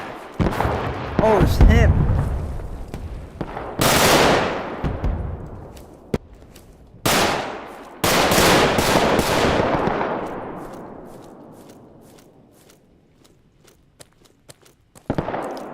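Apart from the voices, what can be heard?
gunfire in video game Roblox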